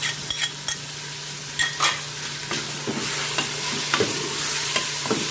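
Tomatoes and green chilies frying in a pan give a steady close sizzle, with repeated sharp scrapes of stirring on top and no voices.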